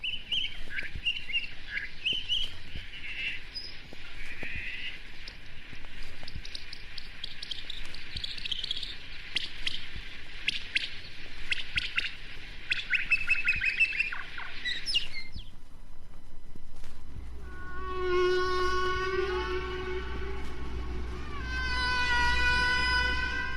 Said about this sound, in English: A good way to hear the patterned structure of humpback songs is to speed them up to birdsong speeds